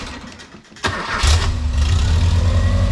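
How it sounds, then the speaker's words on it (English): A Subaru engine swapped into a Volkswagen Karmann Ghia cranks briefly and then catches, settling into a loud, steady, close idle rumble with no one speaking. "Got our start button, got the ignition turned on up front, and let's see what she does"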